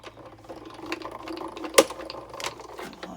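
A die-cutting machine processes a paper card, giving a run of clicking, ratcheting mechanical sounds with one sharp loud snap partway through.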